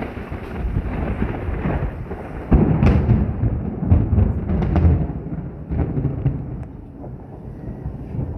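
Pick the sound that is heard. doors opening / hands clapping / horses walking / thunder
thunder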